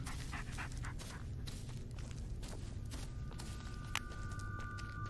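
A dog in the Blair Witch video game pants rapidly in a steady rhythm while its paws patter along beside a walking player, close and continuous, with a faint tonal hum entering later.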